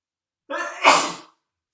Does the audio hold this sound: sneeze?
yes